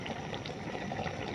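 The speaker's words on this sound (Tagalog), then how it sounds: "Kumukulo na." Fish paksiw with okra and bitter melon bubbling in a pot, a steady close rolling simmer with soft popping bubbles filling the whole stretch without pause.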